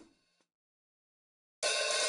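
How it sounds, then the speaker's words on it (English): Open hi-hat from the MDrummer virtual drum plugin, choked short by a closed hi-hat after a brief ring, followed by silence and then another loud, bright open hi-hat wash sustaining to the end. "This simulates the drummer actually closing the physical hi-hat hardware."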